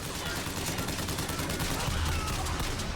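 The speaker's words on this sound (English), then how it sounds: "Hold still while I shoot you." Gunfire in the video game BioShock Infinite: a dense, continuous burst of rapid shots, loud and unbroken for the whole stretch.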